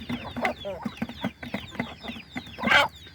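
Guinea fowl calling in a farmyard flock with chickens, scaring off mongooses: a run of harsh, repeated clucking and cackling calls, close and fairly loud, ending in a louder raucous burst.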